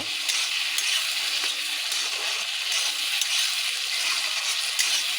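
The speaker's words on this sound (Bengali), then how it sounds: "এখন ভেজে রাখা আলুগুলিকে দিয়ে দেব, দিয়ে সুন্দর করে ভেজে নেব।" Pre-fried potatoes sizzle in a pan of oil and cooked spice paste, a steady close hiss of frying with faint stirring ticks and no voices.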